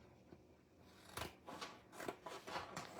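Scissors cut through a clear acetate sheet in a few quick, crisp snips, close and soft in a quiet room.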